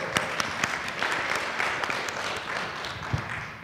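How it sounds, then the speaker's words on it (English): An audience clapping at a community panel event on race, identity and immigration, a fairly loud, even patter of many hands with a few sharper claps standing out. "here's a clap for you."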